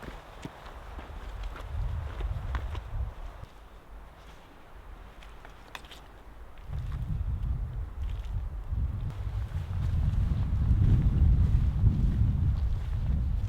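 Gusty wind on a hiking trail, buffeting the microphone with low rumbling bursts that swell louder toward the end, continuous and close with no talking.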